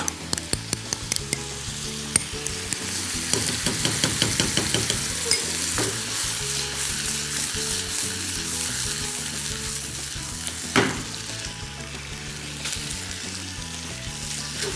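Chicken breast sizzles in a pan with pesto, with sharp stirring clicks and scrapes coming in quick bursts over a steady close fry.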